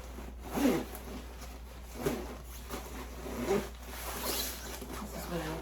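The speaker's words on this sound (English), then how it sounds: "Let me zip it in the front." Zipper on a Mackage Kay coat being pulled up the front in a few short tugs, quiet scratchy rasps spaced about a second and a half apart.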